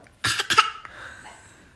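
A child imitates a cough with two quick, forceful bursts, followed by a short trailing vocal sound, close and fairly loud.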